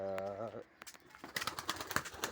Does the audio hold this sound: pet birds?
yes